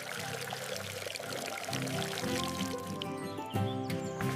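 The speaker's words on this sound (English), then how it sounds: "Water plants to help them grow." Water pours steadily onto household plants, a continuous splashing stream with a bright trickling edge over a light musical backdrop, changing tone partway through.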